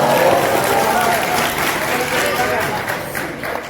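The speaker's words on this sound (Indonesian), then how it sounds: "tidak boleh tepuk tangan" A crowd in a mosque claps during a religious lecture, a loud, dense patter of hands that runs steadily and eases slightly near the end, mixed with the murmur of voices.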